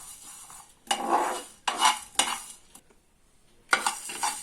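Whole spices for a stuffed chilli pickle dry-roasting in a pan, stirred in short scraping bursts with a faint crackle between strokes and brief pauses, close and alone.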